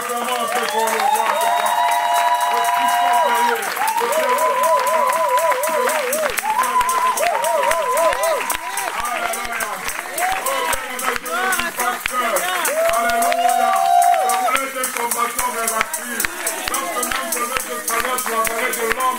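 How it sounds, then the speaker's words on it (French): A church congregation at a French-language service claps and cheers for a long stretch, with rhythmic applause mixed with voices and singing-like tones throughout. "Et nous acclamons un peu pour le roi."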